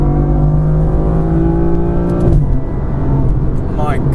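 A BMW M4 F82 with its S55 engine accelerates hard in third gear, a loud rising drone that climbs steadily before a brief dip and continues, with a voice talking over it.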